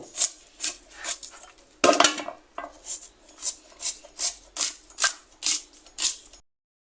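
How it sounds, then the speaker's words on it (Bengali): A knife chops an onion on a cutting board in a home kitchen: about a dozen crisp, evenly spaced strokes, close and loud, with no talking. "এখন আমি পেঁয়াজ কাটটা নিব, এভাবে করে পেঁয়াজটা কাটটা নেব।"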